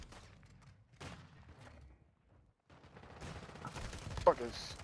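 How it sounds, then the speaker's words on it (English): Shotgun fire in Call of Duty Modern Warfare II, an FSS Hurricane setup on the Shipment map, comes as a few quiet bursts amid game noise, building to a louder cluster of shots near the end. "Fucking jumping and shooting this fucking shotgun."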